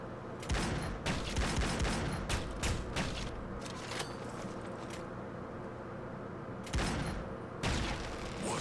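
Gunfire in a boss fight in Tales of Xillia, with repeated sharp shot bursts over a steady loud battle background, clustered early and again near the end.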